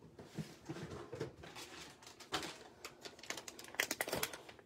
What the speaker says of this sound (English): The Stampin' Seal refills come in these plastic bags.